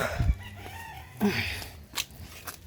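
Scattered chicken sounds nearby in a quiet rural village: a few short clucks and squawks with brief pauses between them, over faint outdoor background noise.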